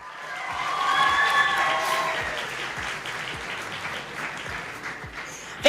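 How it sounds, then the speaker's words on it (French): A theatre festival closing-ceremony audience breaks into dense applause that swells and then slowly thins over several seconds in a large room. "Oui, non, applaudissez-vous, c'est merveilleux."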